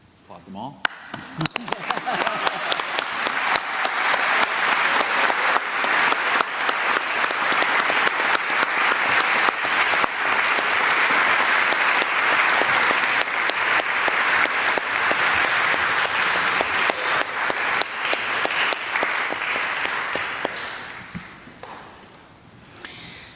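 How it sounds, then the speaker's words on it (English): Sustained applause from a seminary commencement audience honoring graduates, loud and steady for about twenty seconds before fading out. "Applaud them all."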